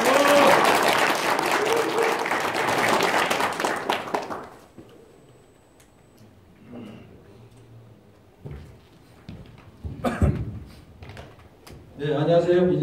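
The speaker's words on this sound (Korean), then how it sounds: "뜨거운 박수 보내주시고." A room of party members at a local meeting with a Gyeonggi governor candidate in Pocheon-Gapyeong bursts into loud, dense clapping for about four seconds, then it dies away into a quiet room with scattered clicks and shuffles and a voice returning at the end.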